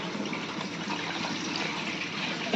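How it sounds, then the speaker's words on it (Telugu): Water is poured into a pan of fenugreek and coriander chutney as it cooks, a steady close splashing gush that fills the whole short stretch at even loudness. "ఇప్పుడు మనం ఏం చేద్దామంటే వాటర్ వేసుకుందాం కొంచెం"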